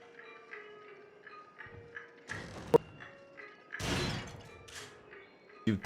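A door swinging open in the horror rail-shooter game Until Dawn: Rush of Blood: a sharp mechanical thud and rattle, then a louder broad whooshing burst and a final knock, all over a quiet, droning ambient score with no talking.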